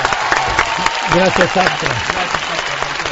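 Studio audience applause on a midday television program, clapping running continuously beneath a voice speaking briefly in Spanish.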